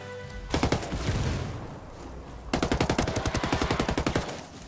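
Automatic gunfire in the video game Ghost Recon Wildlands: a loud sustained burst, a brief pause, then a longer rapid-fire string of evenly spaced shots, close and dominant with no talking.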